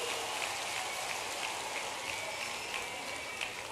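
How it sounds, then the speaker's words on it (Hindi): Large outdoor rally crowd welcoming Chief Minister Shivraj Singh Chouhan with steady, distant applause, a dense even hiss of many hands clapping without any speech. "जोरदार तालियों के साथ स्वागत करें।"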